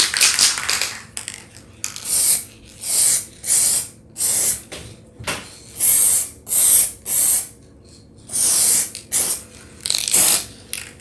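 Short bursts of spray paint hiss in a steady on-off rhythm as metallic paint is applied in a thicker coat to a BMW Z4 driver's door handle, close and fairly loud, with no talking.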